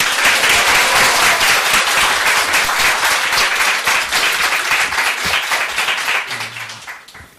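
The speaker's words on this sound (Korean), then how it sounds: "박수로 환영하시기 바랍니다." A church congregation applauds loudly to welcome a missionary pastor, with dense, vigorous clapping that holds steady and then gradually tapers off toward the end.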